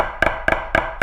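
Four evenly spaced, sharp double-struck hits on tenor marching drums, each stroke split into two close attacks like a flam, ringing briefly and heard alone up close.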